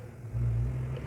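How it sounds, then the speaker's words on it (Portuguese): A car passing by on a street, a brief low rumble that swells as it goes past and fades slightly, heard alone without talk. "Passa carro."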